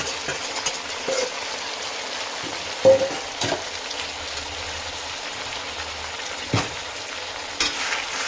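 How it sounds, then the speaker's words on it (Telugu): Mutton frying with onions in a pan, a steady close sizzle with occasional clanks of a stirring utensil against the pan. "ఇప్పుడు మటన్ వేసుకున్నాం."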